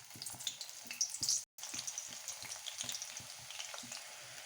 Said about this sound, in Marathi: इकडे तेल गरम करायला ठेवलं होतं, त्याच्यामध्ये आपल्याला वांग्याची फोडी या तळून घ्यायची आहे।